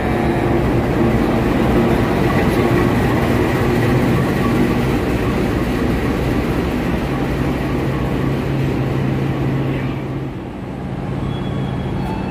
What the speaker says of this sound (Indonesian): Ini adalah kereta feeder yang akan menghubungkan Stasiun Bandung dengan stasiun kereta cepat Padalarang